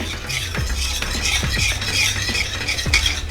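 Patvadi coating batter whisked in a pan over medium heat, a rhythmic series of scraping, slapping strokes of a utensil against the pan over a faint background hiss, close and without talk.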